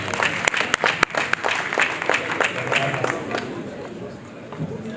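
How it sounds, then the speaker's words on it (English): Conference audience at an African Youth Day event applauding a speaker, with loud sharp individual claps up close over a crowd clapping that gradually thins out, and people chattering in the background. "Let's clap for her."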